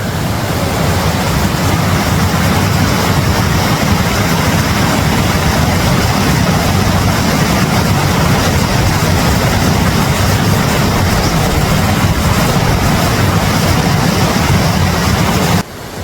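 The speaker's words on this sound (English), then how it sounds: "Speaking of waterfalls, look at this one." A waterfall along the Sky Pond hike in Rocky Mountain National Park roars as a loud, steady broadband rush, close and unbroken, cutting off abruptly at the end.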